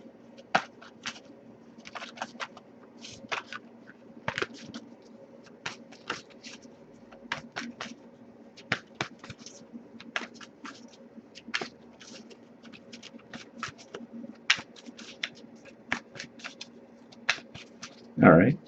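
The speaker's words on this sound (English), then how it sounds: "I'll shuffle for a little longer" Tarot cards being shuffled in quick irregular flicks and taps, close up, continuing for a while over a low steady background hum.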